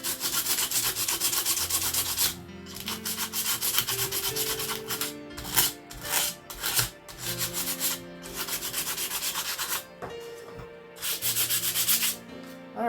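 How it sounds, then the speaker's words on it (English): Sandpaper rubbing over drilled holes in bamboo wind chime pieces, a steady close scratchy scrubbing in bursts of a few seconds with brief pauses between strokes, no voices. "I'm just going to take a quick sandpaper and just clean them up a bit."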